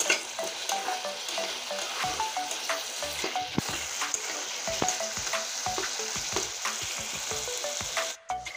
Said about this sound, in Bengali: পেঁয়াজ, রসুন আর জিরে বাটা একসঙ্গে আমি কষতে থাকবো